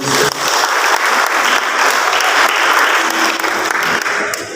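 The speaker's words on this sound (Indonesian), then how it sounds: "Kita beri tepuk tangan buat Tuhan." Loud, enthusiastic clapping from a large church congregation during a Christmas service, dense and sustained from start to finish.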